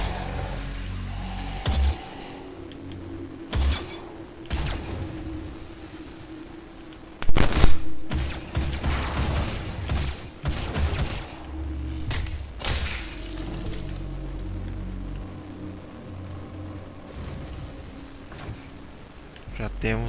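Explosive-shot weapon mod fired in DOOM (2016) on PS4: several heavy, sharp blasts and thuds with crashing debris over a constant low game rumble and music, with someone talking throughout.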